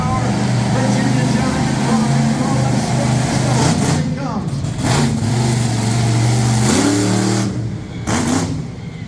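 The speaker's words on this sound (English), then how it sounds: "Now he's going to turn that truck around and get to his next hit." Monster truck engine at a motorsports competition in Middletown, NY, roaring steadily and rising in bursts as the truck turns around, loud and close under a commentator's running talk.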